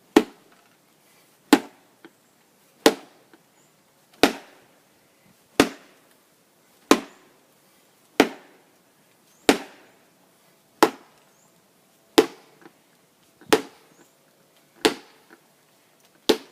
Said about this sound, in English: the sound it's making when it's striking the Pell.